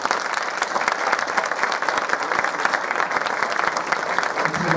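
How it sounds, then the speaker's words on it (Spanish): Audience at an academic ceremony applauding, dense and sustained clapping from many hands filling the room at a steady level throughout. "Les pido a los asistentes, los despidamos con un fuerte aplauso"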